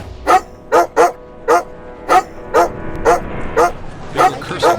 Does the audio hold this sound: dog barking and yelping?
yes